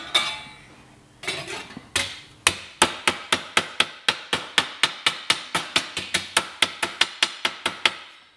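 A hammer taps on a hot mild steel tack-welded practice piece from oxy-acetylene welding. A few scattered knocks give way to a steady run of about twenty sharp, ringing metallic strikes at an even rhythm.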